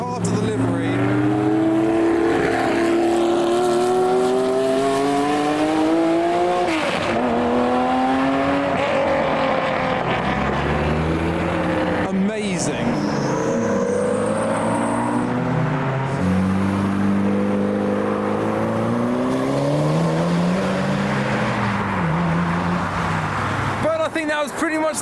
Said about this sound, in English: the grand finale of this video behind the Corvette is the Porsche 911 art car